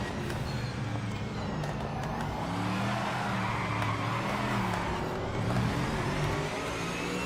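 Race car in the sim racing game Project Motor Racing braking hard into a heavy braking zone, a steady loud engine drone with shifting pitch and tire scrub throughout, no speech.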